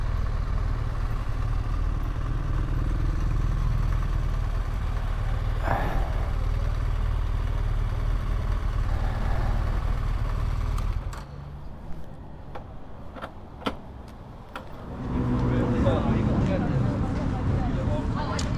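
A motorcycle engine rumbles steadily at close range in the Peak District, England, dropping away briefly before revving back up near the end.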